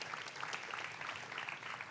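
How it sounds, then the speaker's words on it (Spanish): A church congregation clapping together in a steady, moderately distant patter of many hands, fairly faint and continuous, without words. "Denle un fuerte aplauso a Dios por eso."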